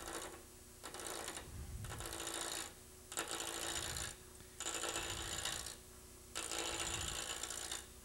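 A roughing gouge cuts wood on a spinning lathe in five rhythmic scraping passes, each a couple of seconds long with short gaps, over a steady low motor hum.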